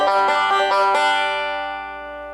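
Banjo picking a short lick from measure 10 of a bluegrass tutorial, several quick plucked notes, then a ringing chord that decays slowly, played close and alone.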